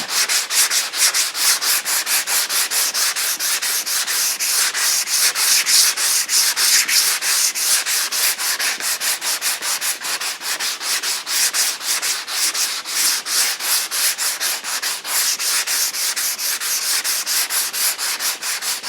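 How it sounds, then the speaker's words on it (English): Spot putty and primer are sanded by hand on the body of a junkyard Cadillac. Fast, even back-and-forth rasping strokes repeat without a break for nearly twenty seconds, loud and close, with no talking. "I'm going to try sanding it off over here too, on the top edge."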